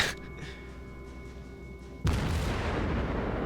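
Naval guns from battleships in a warship combat game, a Des Moines cruiser engaging a Wyoming, firing a heavy salvo: quiet rumbling engine noise, then a sudden loud booming blast that rolls on as dense sustained roar.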